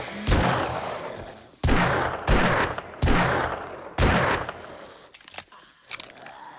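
Loud Magnum revolver shots in the zombie survival game 7 Days to Die, five heavy booming blasts roughly a second apart, each with a rumbling tail, followed by fainter clicks and clatter.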